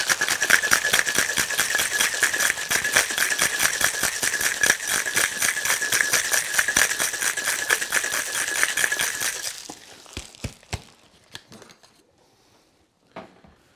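Ice rattles hard inside a cocktail shaker in a fast, steady rhythm for about nine seconds while an espresso martini is mixed, then a few scattered clinks follow as the shaking stops.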